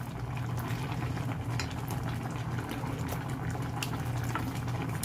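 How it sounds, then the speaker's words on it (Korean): Fish topped with sliced onions simmering in a covered pot without added water, a steady soft bubbling and hiss throughout, quiet and close with no voices. "뚜껑 닫고 어수 나올 때까지 조금 졸여줄게요."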